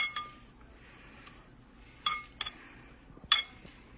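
Utensils clink against a bowl while an Italian-style cold green bean salad is being mixed, giving a few sparse, light glassy taps separated by quiet pauses.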